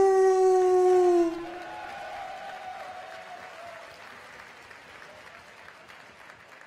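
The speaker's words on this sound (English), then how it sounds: "Let's hear it for Ryan Donato" At a Nova Kickboxing fight night, a crowd applauds and cheers for a fighter's introduction, with a loud high howling cheer at first that fades into steady clapping and crowd noise.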